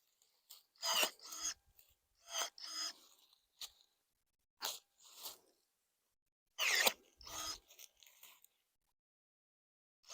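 Pruning shears cutting hazelnut root suckers, a series of sharp scraping, crunching snips in short bursts with pauses between, close and clear, no talk.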